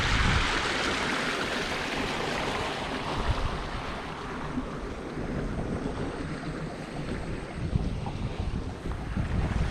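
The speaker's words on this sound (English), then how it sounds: "I hope you guys can hear me because of the wind" Steady, loud wind buffeting a microphone outdoors, a continuous broadband rumble and roar with slight gusts throughout, no voices.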